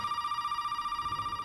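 A telephone in the Resident Evil 7 video game rings with a steady electronic tone, pulsing rapidly and evenly, loud and alone without any talk.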